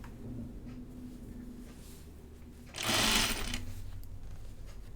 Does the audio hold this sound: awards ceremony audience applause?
no